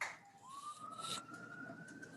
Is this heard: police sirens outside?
yes